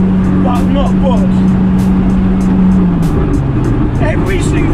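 RB25-engined Datsun 260Z, a roughly 520 wheel-horsepower build, accelerating with a loud, steady engine drone and a pitch shift midway, heard from close by.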